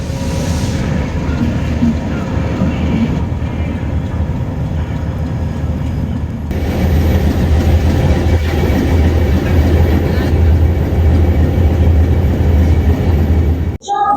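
The Cheran Superfast express, hauled by a WAP7 electric locomotive from Royapuram shed toward Coimbatore, rumbles loudly and continuously with wheel clatter building partway through, heard from aboard the train.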